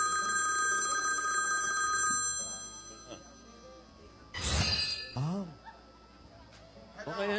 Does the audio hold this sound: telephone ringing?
yes